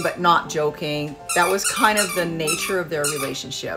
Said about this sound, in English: My puppy is in the background squeaking his toy.